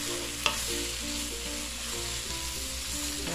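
Tomato sizzles and fries in a hot pan while being stirred, a steady close crackle with a few scraping strokes of the spoon, no voices over it.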